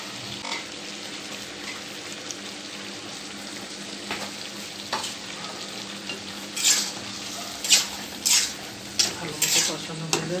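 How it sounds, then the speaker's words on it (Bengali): Fish fries in a pan for a Pabna-style kosha curry, a constant low sizzle broken by metal utensil stirs and scrapes that grow louder and more frequent toward the end. "আমিও তাই আমার মায়ের মতো মাছ কষায় আজকে রান্না করছি।"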